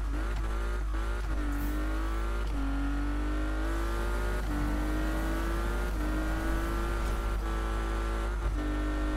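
A Porsche 911 RSR 2.8 accelerating in Need for Speed, its engine revving up repeatedly through the gears in rising sweeps, each shift marked by a brief drop before climbing again, loud and close throughout.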